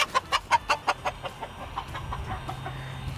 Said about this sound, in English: So that's the old rooster there, and he's just telling one of the younger roosters who's boss.